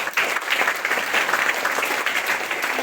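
A school assembly audience of students claps together after a quiz answer, a brisk, even burst of applause, close and loud, filling the short moment without talk.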